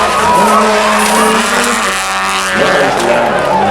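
A rally car at full throttle in a Ugandan Rally Championship round, engine note rising and falling loudly as it passes close, with brief tyre skidding and no lift-off throughout.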